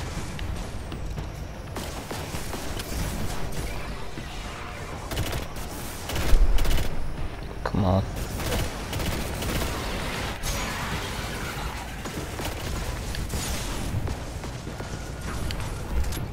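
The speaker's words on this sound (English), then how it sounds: "Shotgun right in the face." Shotgun blasts and surrounding gunfire in the first-person shooter video game Destiny, a dense, loud rattle of shots with one heavier close blast standing out amid continuous combat noise.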